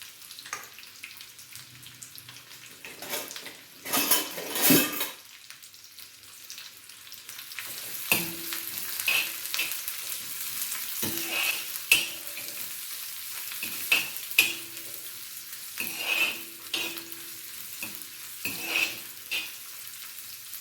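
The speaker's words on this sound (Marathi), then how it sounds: "तव्यात तेल घेतलं आहे. आता कांदा भाजून घेते" Onion fries in oil in a pan as a constant crackling sizzle, punctuated by repeated scraping and knocking of a spatula stirring against the pan.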